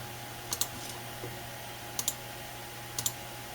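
Faint computer mouse clicks come in three quick double pairs spaced over a few seconds while stepping through a software installer in Windows 11, over a low steady hum.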